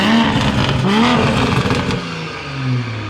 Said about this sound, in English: Got a downpipe on this car, let's hear it.